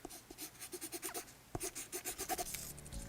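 Pencil sketching in the otome game Asagao Academy: a quick run of rhythmic scratchy strokes, about a dozen short scrapes close up, with no voices.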